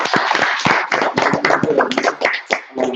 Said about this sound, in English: Clap it up real quick.